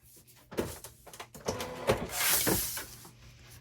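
A cutting machine slices a temporary tattoo design, giving soft mechanical whirs and short motor runs that build to a brief louder burst before fading, with no talk.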